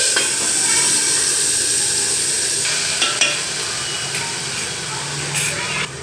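Buttermilk poured into a hot garlic tempering for Gujarati kadhi, a loud continuous sizzle and steamy hiss filling the space, with a few faint utensil clinks partway through.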